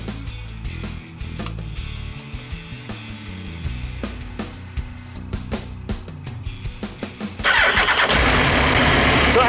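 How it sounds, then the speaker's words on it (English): A Suzuki Hayabusa motorcycle is started during throttle body balancing: a run of starter clicks and cranking turns, then the engine catches and settles into a loud, steady roar near the end, heard close up. "Let's go ahead and start the bike up."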